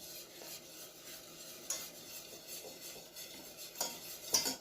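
Chocolate cake batter being stirred steadily in a bowl after oil is added, a soft continuous scraping and swishing with a few sharper clinks of the utensil against the bowl near the end, close and fairly quiet with no talking.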